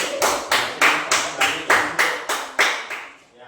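Classmates in a school classroom clap together in unison, about ten sharp, evenly spaced claps in a brisk rhythm that stop cleanly near the end.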